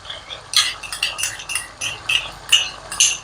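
A metal spoon stirs cream into mutton Afghani gravy in a pan, giving about a dozen quick clinks and scrapes in an uneven rhythm, close and fairly loud, with no talking.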